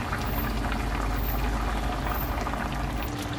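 Chicken wings simmer in a red sauce, a steady close bubbling and hissing that runs without a break, dense and even throughout, with no voices over it.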